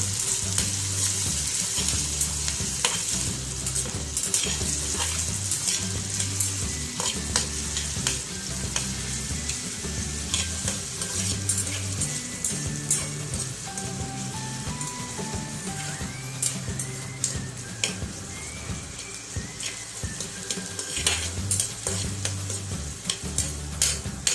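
Chopped onion sautés in a pan while being stirred, a steady sizzle and hiss with repeated scraping strokes throughout, up close and with no talking.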